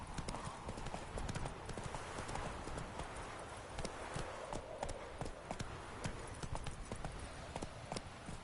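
Hooves of the horse Roach clip-clopping steadily in The Witcher 3, a fast continuous gait heard close under faint game ambience and background sound.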